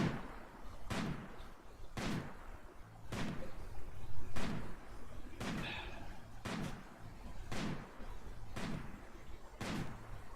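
Distant rifle shots from a hunt in RimWorld ring out one at a time, about nine sharp cracks spaced roughly a second apart, each with a short echoing tail.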